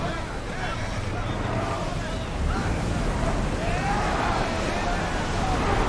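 Wind rushes and waves wash steadily around a sailing ship at sea in the video game Assassin's Creed Odyssey, a broad, continuous roar that swells slightly midway, with a voice faintly mixed in.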